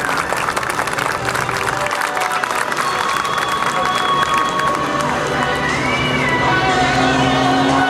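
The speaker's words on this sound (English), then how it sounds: "Put your hands together, ladies and gentlemen, for Ken Appezzato, K9." A large outdoor airshow crowd at AirPower Over Hampton Roads 2008 applauds and cheers steadily for pilot Ken "K9" Appezzato, with clapping and shouts sustained throughout and faint aircraft and ambient noise underneath.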